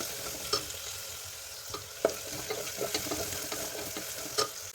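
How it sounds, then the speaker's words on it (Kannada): Chopped onions and green chillies roast in hot oil in a pan for tomato bath, giving a steady close sizzle broken by scattered scrapes and taps of a spoon stirring, with no talking. "ಚೆನ್ನಾಗಿ ಈಗ ಈರುಳ್ಳಿ ರೋಸ್ಟ್ ಮಾಡುವ"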